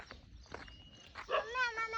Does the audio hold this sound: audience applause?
no